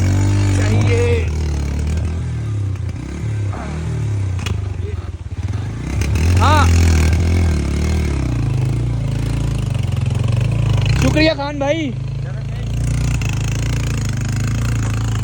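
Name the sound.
motorbike engine on slippery mountain track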